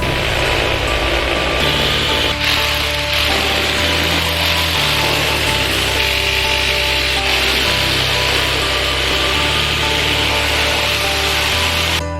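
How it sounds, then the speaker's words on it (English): A loud, steady mechanical whine of a power drill grinding holes through metal plates for a dyno, continuous with shifting pitch and rattling vibration. "But for now, we'll just drill the holes."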